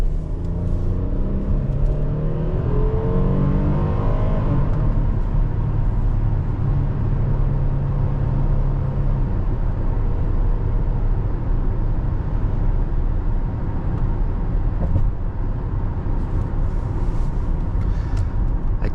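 A 2023 Hyundai Palisade XRT with its 3.8 engine drives along, giving a steady, loud low rumble with road noise from start to finish and no talking.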